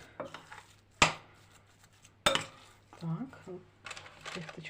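Two sharp metallic clinks of a spoon striking a bowl while mixing choux pastry dough for eclairs ring out, separated by soft scraping and stirring sounds, with faint movement in between.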